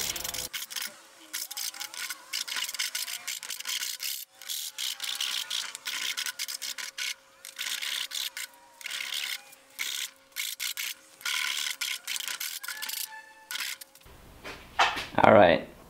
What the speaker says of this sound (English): A few final touches with the file.